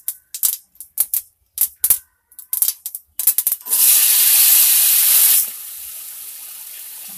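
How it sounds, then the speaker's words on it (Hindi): Mustard seeds crackle in hot oil for chutney, a rapid burst of sharp pops followed by a loud, steady sizzling hiss that drops to a softer sizzle. "अभी राई हमारा चटकने लग गया है"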